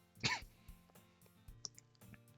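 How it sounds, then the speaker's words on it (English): One person gives a short cough that blends into a chuckle, faint and close. A few soft breathy sounds follow, with no speech. "that was a mixture of a cough and a chuckle."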